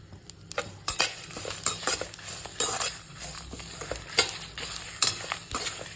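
Fenugreek seeds and curry leaves sizzling in hot oil in a pan for a fish curry, with a utensil scraping and clinking against the pan as the spices are stirred, close and fairly loud.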